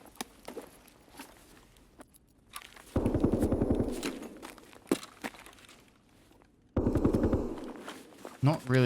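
Bursts of rapid automatic gunfire in a video game, two sustained volleys of loud clattering shots separated by quieter stretches of footsteps and handling noise.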